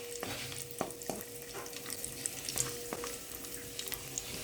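Cashews and raisins frying in ghee for ada pradhaman payasam, a continuous close sizzle with repeated light scrapes and taps of a stirring spoon against the pan.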